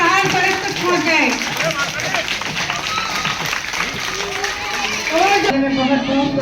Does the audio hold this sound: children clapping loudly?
yes